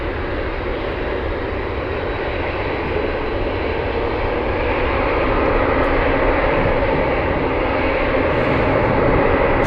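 UPS cargo jet departing Anchorage airport on a gusty day, a loud continuous engine roar that swells slightly toward the end, with no voices.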